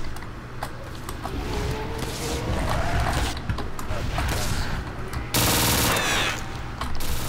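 A PPSh submachine gun rattles off sustained automatic bursts in Call of Duty: World at War custom zombies mode, loud and close, with a brief heavier blast near the end.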